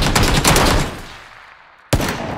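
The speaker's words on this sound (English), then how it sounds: "All I have is a pistol, dude." Two loud, sharp pistol shots ring out close by, several seconds apart. The first one trails into a decaying echo before the second cracks out, with no voices.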